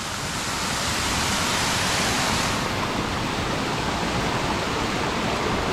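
Rushing water of a hillside stream near a big waterfall by a mountain village, a steady broad roar with no breaks, loud and close throughout.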